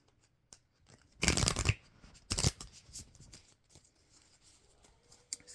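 Tarot cards riffle-shuffled at close range during a reading, two loud shuffling bursts of about half a second each, surrounded by softer card handling and light taps.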